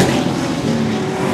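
Late model stock cars race at Seekonk Speedway, a Chevy among them, with a dense, loud engine roar from several cars held steady through the short burst.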